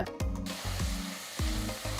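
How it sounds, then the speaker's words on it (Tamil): Ginger garlic paste sautés in a pressure cooker with a continuous close sizzle and a few spoon scrapes against the pot. "அடுத்து ரெண்டு டீஸ்பூன் இஞ்சி பூண்டு விழுத சேர்த்து நல்லா வதக்குங்க"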